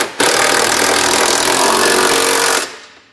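Power tool drive a 19mm socket to run up trailer hitch hardware on a vehicle: one steady, loud, broadband whir lasting about two and a half seconds, then stopping abruptly and tailing off.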